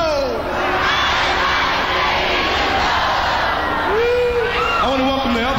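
A New Year's Eve 1991 San Francisco concert crowd roars and shouts back in a dense, loud wall of voices, with cheers and whoops rising and falling near the end.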